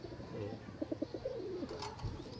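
Pigeons or doves cooing softly, a short series of low rhythmic coos close by, with faint background noise and a brief chirp near the end.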